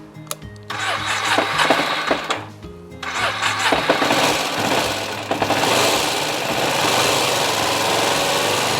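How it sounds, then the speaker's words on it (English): A motorcycle engine cranks on the electric starter in short bursts, then catches and settles into a loud, steady idle close by. "With the switch on run, I can hit the starter and it will start"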